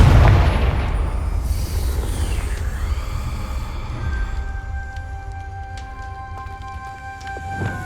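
A Confringo blasting spell in Hogwarts Legacy goes off as a single loud close boom at the start, decaying into a long rumbling tail with faint crackles and ringing tones.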